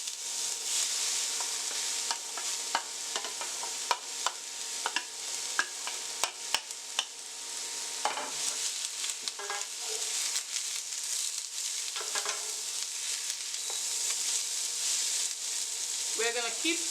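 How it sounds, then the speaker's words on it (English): Sliced red onion caramelizing in a pot, stirred again and again, making a steady sizzle broken by frequent scraping clicks and knocks of the spoon, close and continuous. "So we're going to caramelize this, and it's going to take quite a while the beef is cooking."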